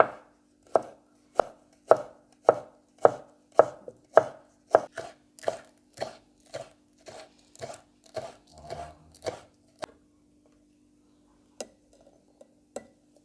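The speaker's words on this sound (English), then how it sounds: "Now let's finely slice one stem of spring onion." A knife finely slices a stem of spring onion on a cutting board for a samosa filling: about fifteen crisp, evenly spaced chops in a steady rhythm, close and clear, then a few scattered taps after a pause.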